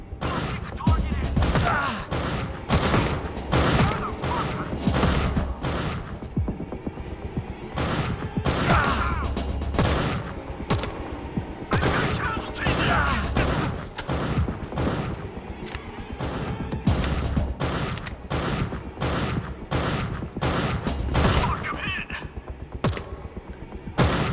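Repeated gunfire from the Lovecraftian survival first-person shooter Beneath: loud, close shots in rapid irregular bursts, each a sharp crack with a mechanical clack, continuing without pause.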